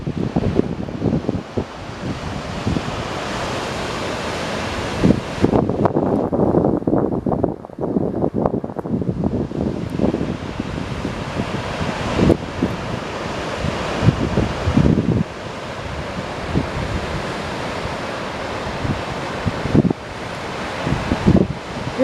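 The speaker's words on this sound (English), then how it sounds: "The wind is what drowns out my voice." Gusty wind buffets the microphone on a Pacific Ocean beach while surf rolls and washes in the background, the roar rising and dropping in uneven bursts with a brief calmer lull partway through.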